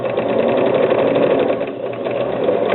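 A sewing machine stitches a zipper, including a backstitch, with a steady, close, continuous whirring hum that runs unbroken for the whole stretch.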